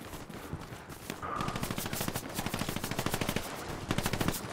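Sustained automatic gunfire in the Hell Let Loose video game, a rapid machine-gun rattle of dense repeated bursts running loud and steady throughout, with scattered single shots mixed in.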